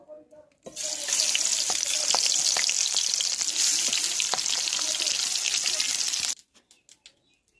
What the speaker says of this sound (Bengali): প্রথমে আমি তেলে মাছটা ছেড়ে দিচ্ছি